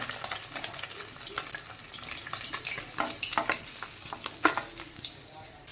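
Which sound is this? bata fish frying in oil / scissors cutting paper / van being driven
bata fish frying in oil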